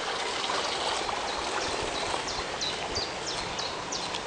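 Water trickles and babbles steadily in a small stream, with bird chirps repeating faintly in the background.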